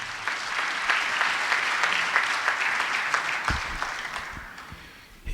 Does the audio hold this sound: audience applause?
yes